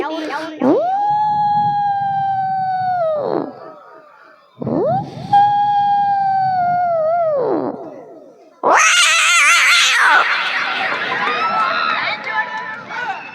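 A mimicry artist's voice imitates cats fighting at night: two long, loud, drawn-out wailing yowls, each lasting a few seconds, then a harsh screeching, spitting burst of a fight.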